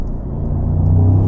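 A Mercedes-AMG SL's V8 engine accelerates, a loud, close growl that rises and strengthens over a short burst.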